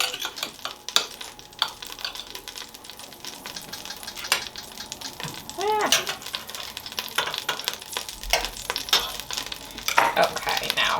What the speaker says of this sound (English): I'm gonna put a little bit of bacon grease into the bottom of the Dutch oven here, and I'm also gonna throw in a little bit of butter